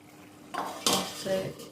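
A lid is set on a clay pot of tomato curry, making a few close hard clinks and knocks spread over about a second, with no voices.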